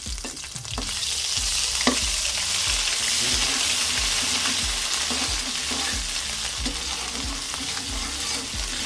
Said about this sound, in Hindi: बस इसको हमने हल्का सा करना है फ्राई